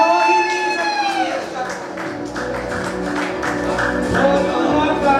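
An audience at a community fair celebrating the transgender community claps in a loose, steady patter while a voice talks loudly over the applause throughout.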